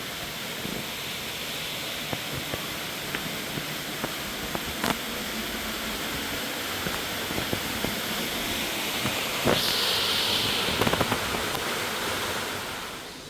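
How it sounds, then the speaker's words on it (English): Water flows steadily near a temple in Narita, Japan, a continuous broadband rush that stays fairly close and even, with a few faint clicks and a brief higher hiss partway through. "hearing the water flow"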